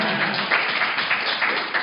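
Audience applause fills a Labor Party national conference hall, a steady wash of many hands clapping at close range, sustained and even throughout with no voices over it.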